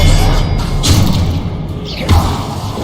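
A spell impact in the Hogwarts Legacy video game, a couple of deep thuds with whooshing bursts over a dense, loud game soundtrack and rumble.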